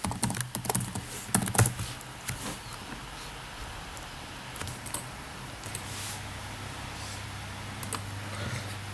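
Keys clattering on a computer keyboard as a terminal command is typed on Ubuntu, a quick burst of taps up front, then sparse isolated keystrokes over a steady low fan hum.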